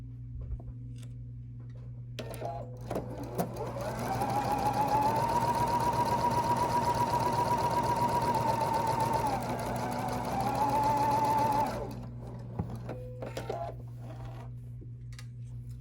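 A sewing machine sews a quarter-inch seam on quilt pieces for a Texas Star block, its motor building to a loud, steady hum with a brief dip partway, then stopping and leaving a low background drone with a few clicks.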